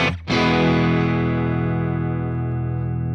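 A single distorted electric guitar chord from a Fractal Axe-Fx III amp modeler rings out loud and sustained, with a roomy reverb tail fading slowly.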